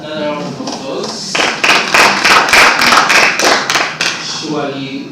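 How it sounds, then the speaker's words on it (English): Audience applause at a live-streamed church service in Kampala, a burst of clapping building from about 1.3 seconds and lasting several seconds, with voices talking over the start and end. "Another round of applause."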